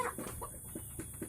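Several chickens cluck inside a small, simple backyard coop, with short, repeated calls at a moderate distance.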